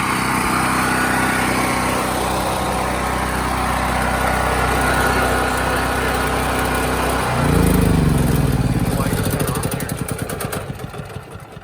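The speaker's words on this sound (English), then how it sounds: "I'm just going to go out here and shut off this generator." A Firman tri-fuel generator running on natural gas for whole-house power: a loud, steady engine drone close up that shifts in tone partway through, then begins to wind down and sputter as it is shut off.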